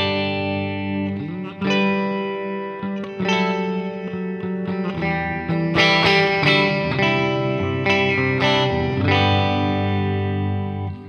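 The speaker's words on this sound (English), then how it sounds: "So we've got a sort of lush hall reverb on the bottom and a, let's remind ourselves what the spring reverb sounds like on the top." Electric guitar chords played through a spring reverb and a lush hall reverb blended by an XO crossover pedal, each strum ringing out with long washy tails and splashy decay, no talking.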